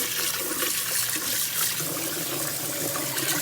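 Water sloshing in a bowl as rice is rinsed by hand, a steady, soft swishing wash of liquid with no talk over it.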